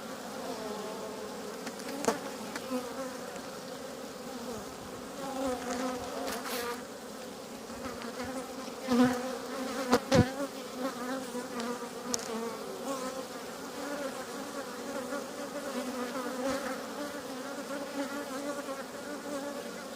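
A dense, continuous drone of many honeybees and drones buzzing close by at a double-deck hive, with individual bees swelling louder as they pass near.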